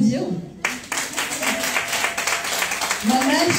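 Audience applause at an evening gathering, a dense wash of clapping that swells in right after a voice and carries steadily to the end, with talk bits over it.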